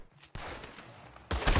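Two booming shotgun blasts in Red Dead Redemption 2, about a second apart. Each hits with a sharp broadband crack, and the second is louder and fuller, with no talking.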